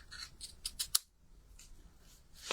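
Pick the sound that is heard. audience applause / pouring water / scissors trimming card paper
scissors trimming card paper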